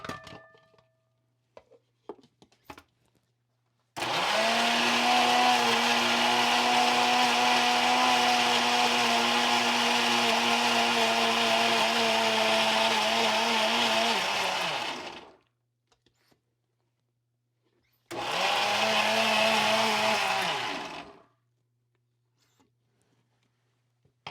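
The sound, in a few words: mixer grinder grinding very ripe banana into paste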